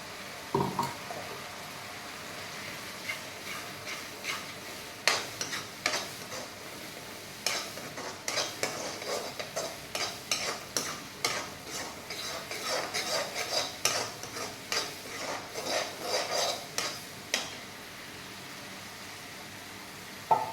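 A spoon stirs a sizzling spiced mixture with yogurt in a pan, giving a series of quiet scraping, clinking strokes that grow busier midway over a soft background hiss.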